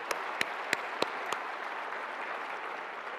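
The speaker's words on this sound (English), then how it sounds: "please join me in a round of applause for our people." Plenary session audience at an annual meetings event gives a round of applause, steady crowd clapping throughout with a few louder sharp claps near the start.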